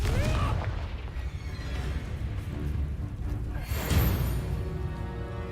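Bombarda and Confringo spells explode during combat in the video game Hogwarts Legacy, producing loud, deep booming blasts over continuous low battle rumble, with one stronger burst near the end.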